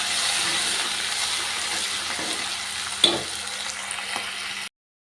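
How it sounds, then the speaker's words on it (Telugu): Onion, green chili, curry leaves and mint frying in hot oil for a potato kurma, a steady close sizzle with a brief stir or clink near the middle, then silence at the end. "ఆనియన్, పచ్చిమిర్చి ఇలా కుక్ అయ్యాక ఇందులోకి కరివేపాకు, అలానే పుదీనా, ఇది కూడా ఇలా ఫ్రై చేసుకున్నాం"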